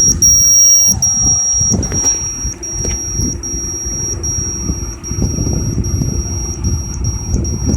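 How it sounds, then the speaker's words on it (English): An Arduino Uno ultrasonic proximity sensor's buzzer beeps in rapid, regular pulses over a steady high-pitched tone, fairly close, with a low background hum and no talking. "buzzer frequencies have increased"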